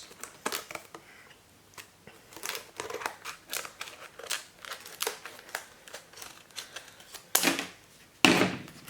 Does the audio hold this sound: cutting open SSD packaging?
yes